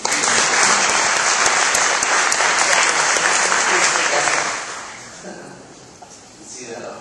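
A conference audience claps together loudly and steadily for about four seconds before the applause thins and fades out, with a brief faint swell of clapping near the end.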